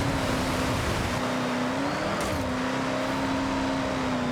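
A small truck drives in the Forza Horizon 6 racing game, its engine holding a steady drone with a brief rise and dip in pitch midway, loud and continuous with no talking.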